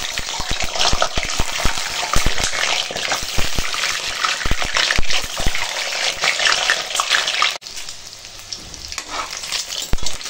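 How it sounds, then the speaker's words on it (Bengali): Eggs frying in hot oil for an egg and soybean curry, a loud close crackling sizzle with sharp spattering pops, briefly dropping quieter near the end before the sizzle resumes. "এখন তেল গরম হয়ে গেছে আর ডিমগুলোকে ভেজে নেবো।"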